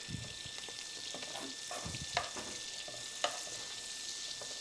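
Garlic fries in a hot pan while being stirred, a soft steady sizzle broken by a few scraping clicks of the utensil, close and fairly quiet, with no voices.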